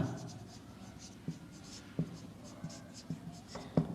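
Pen or chalk scratching out numbers by hand during a maths lesson, soft scraping strokes punctuated by sharp taps at irregular intervals, quiet and close.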